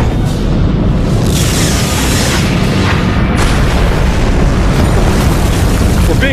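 A sci-fi movie explosion booms loud and sustained, a deep rumbling blast that rolls on with crackling bursts throughout.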